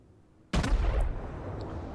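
Battleship main guns fire in World of Warships, piloting the Arizona: one sudden heavy boom with a deep rumbling tail that lingers loud across the rest of the moment.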